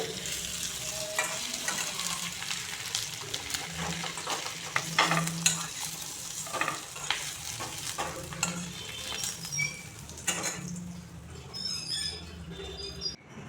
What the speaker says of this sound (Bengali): আলুগুলোকে হালকা ভাজবো